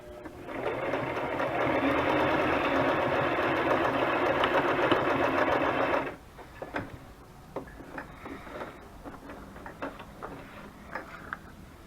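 Hand-crank sewing machine stitching through a handmade butterfly journal, a loud continuous whir for several seconds, then stopping into scattered clicks and light handling taps.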